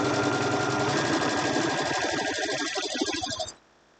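Sewing machine stitching through fabric strips cut with Crafter's Companion Gemini dies: a steady, close, rapid mechanical whir that slows and stops abruptly near the end.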